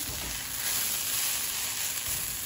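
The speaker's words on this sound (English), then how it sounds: "We're going to mix everything in. The achiote, the cumin, and now I'm going to stir up one more time." Mexican red rice with achiote and cumin being stirred in a hot pan, giving a steady, close sizzle with faint scraping under it and no talk.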